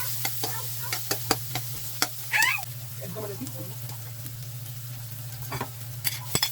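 Onion and garlic sautéing in a pan for adobo: a steady sizzle with irregular spatula scrapes and clicks against the pan, over a constant low hum.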